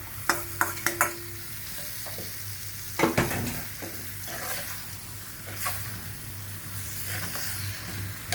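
Squid tipped into a pan of curry masala and stir-fried: a sharp clatter as it goes in, then a continuous close sizzle with intermittent stirring scrapes and spatters.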